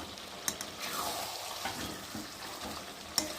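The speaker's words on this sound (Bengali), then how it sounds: "আর এখন আমি ভেজে রাখা আলুগুলো দিয়ে আর একটু কষিয়ে নেব" Fried potatoes tossed into a pan of chicken, stirred with a soft steady sizzle and wet frying hiss, a few sharp spoon clicks against the pan, close and moderately loud with no talking.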